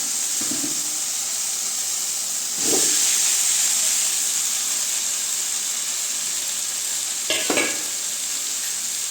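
Radish goes into a pan of sautéed tomatoes for radish kuzhambu, bringing a steady hissing sizzle with steam and a few sharp stirring clatters against the pan.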